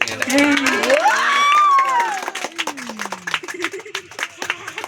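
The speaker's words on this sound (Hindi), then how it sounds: "वाह भाई वाह, ताली बजा दो एक बार।" A small crowd at an outdoor picnic magic show starts clapping as a voice calls out, sharp scattered claps building into a loose burst of applause near the listener.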